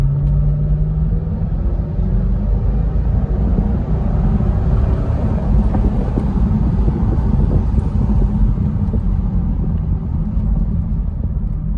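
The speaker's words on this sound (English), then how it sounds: "I'll just hit the gas again." A 2003 Mercedes SL500 with about 45k miles pulls away under moderate throttle on a bumpy road, its engine a steady low rumble mixed with road and wind noise, loud and continuous throughout with no talk.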